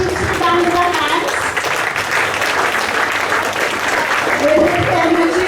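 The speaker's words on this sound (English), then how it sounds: "let's give all the winners, the first, second and third students, another big round of applause" Students and staff at a school Baisakhi assembly clap for the first, second and third place winners, a loud sustained wash of applause with faint voices and a few tonal sounds mixed underneath.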